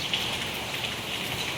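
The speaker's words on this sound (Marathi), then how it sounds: "पाऊस पडतोय" Rain falling outside a window in the morning, a brief, soft, steady hiss of drops with no voices.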